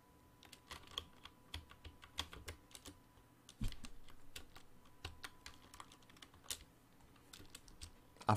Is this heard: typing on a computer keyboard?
yes